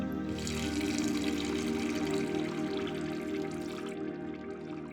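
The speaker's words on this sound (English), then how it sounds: "he filled the silver bowl with water" A steady stream of water pours into a silver bowl, a continuous close splashing fill that eases off slightly near the end.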